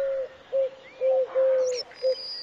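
A British songbird repeats a clear, pure whistled note five times in an even rhythm, with softer chirps and twitters rising above it, fairly close and without any talk.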